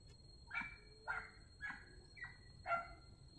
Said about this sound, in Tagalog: Nandito kasi ang mga aso.